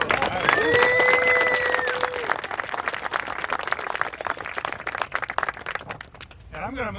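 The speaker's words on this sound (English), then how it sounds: "And give a round of applause." Wedding guests applaud, a dense wash of clapping loudest at the start and tapering over several seconds, with a voice and tones mixed in.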